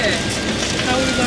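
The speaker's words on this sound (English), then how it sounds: "It wasn't raining when we left Mimi's house." Rain falls steadily in a dense, even patter that fills the short outdoor moment, with people talking underneath it.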